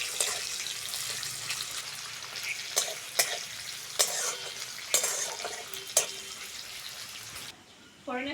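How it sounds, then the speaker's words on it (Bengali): Chopped onion frying in hot oil with whole spices such as bay leaf and cumin for a cabbage dish, a steady sizzle broken by several sharp scraping stirs of a spatula against the pan, close up. "ফোড়নের সঙ্গে পেঁয়াজটা ভালো করে ভেজে নিয়েছি।"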